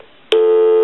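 A telephone busy signal on a rotary-era phone being repaired comes in abruptly after a brief quiet start, a loud steady tone holding to the end.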